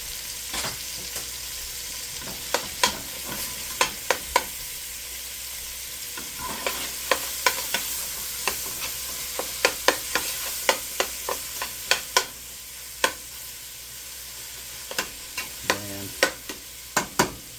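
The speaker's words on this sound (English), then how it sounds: "I'm going to take my garlic and drop it in there as well" Garlic browns and sizzles in a pan for venison vegetable soup, a low constant frying hiss broken by frequent sharp scrapes and clacks of a utensil stirring against the pan, close and with no talk.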